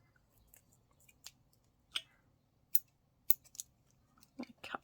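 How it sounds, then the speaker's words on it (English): Scissors snip sewing thread during English paper piecing, several quiet, sharp separate cuts close by, irregularly spaced and a little quicker toward the end, in an otherwise quiet room. "Let me cut that off."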